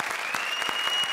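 A brief burst of steady, loud applause from a crowd, clapping throughout with a faint tone running underneath.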